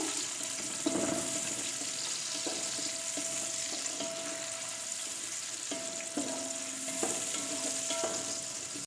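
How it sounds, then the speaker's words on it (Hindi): Three large onions fry in half a cup of oil for beef yakhni pulao, a soft steady sizzle with occasional stirring clinks, heard faintly and close without any talk. "अब हम डालेंगे इसमें 3 अदद बड़े साइज़ के प्याज। प्याज को हमने ब्राउन कर लेना है।"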